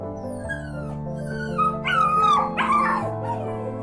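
Three abandoned puppies stuck in hardened tar on a street whimper and cry in high, wavering yelps and thin howls that rise and fall over a few seconds, above a steady low tonal background.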